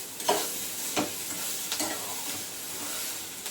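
Tomato cooks in an oil-filled pan, giving a soft steady sizzle broken by a few sharp scraping stirs of a spoon, close and with no talking.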